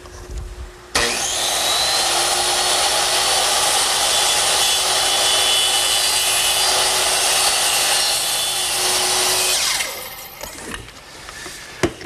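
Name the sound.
sawing short angled cuts in wood freehand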